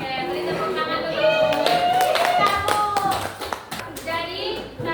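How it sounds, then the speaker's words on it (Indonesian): A class of junior high school students claps together in a room, a dense patter of many hands lasting several seconds, mixed with children's voices and cheering over the applause. "beri tepuk tangan dulu"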